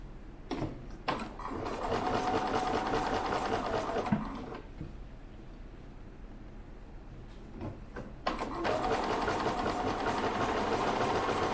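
A sewing machine zigzag-stitches neck binding onto a jersey top in close, loud bursts of rapid needle chatter, stopping for a few seconds mid-clip before running again.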